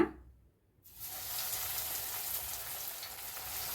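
Breaded baby corn dropped into hot oil after a brief quiet moment, then a dense, steady bubbling sizzle of deep frying that holds evenly, close and clear.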